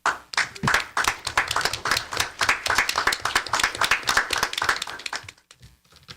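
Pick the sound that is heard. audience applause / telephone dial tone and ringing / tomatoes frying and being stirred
audience applause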